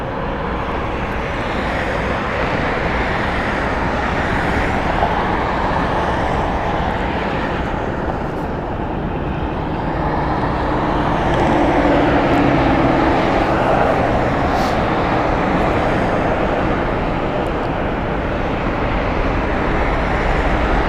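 A Janet airliner taking off from runway 1 right at Las Vegas Harry Reid International Airport, a loud, sustained jet engine roar that swells and holds for about twenty seconds, heard from a distance with a steady broadband rumble.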